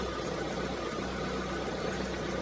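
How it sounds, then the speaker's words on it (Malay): A car engine idles steadily with a low, even mid-range hum and faint vibration throughout, close by and without voices; it runs at a constant level after starting, with no distinct cranking burst. "sekarang saya dah start kereta saya"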